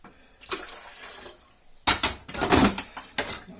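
Water is poured into the tank of a Philips Saeco (Moltio) coffee machine under repair, a faint trickle followed by louder irregular splashing, close up.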